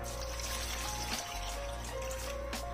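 Water pours into a cooking pot of mutton and spinach in a steady, close trickle, with no talking.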